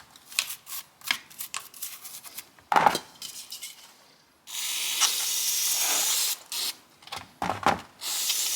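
Brake cleaner sprays onto a sludge-caked used chainsaw during cleanup, a steady loud hiss lasting a few seconds after scattered clinks and scraping of handling, then short bursts of spraying.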